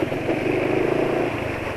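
An automatic scooter engine running rough while being ridden, heard close up as a steady, gritty drone throughout a short stretch.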